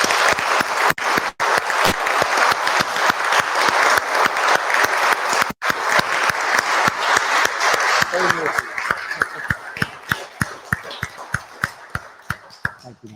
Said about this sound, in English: I'm sure you'd all want to just join me in a round of applause for Peter